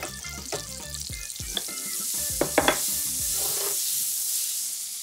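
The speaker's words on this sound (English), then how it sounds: "you'll need a generous dollop of butter in a hot pan to fry your burgers" A generous dollop of butter sizzles and crackles steadily in a hot frying pan, a bright continuous hiss with a few sharper pops, close by and without talk.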